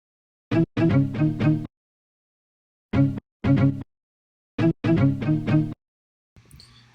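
Sampled song chop layered with a copy pitched an octave lower, three short bursts of choppy chord stabs separated by silence, each a quick rhythmic cluster, followed by a faint low tail at the end.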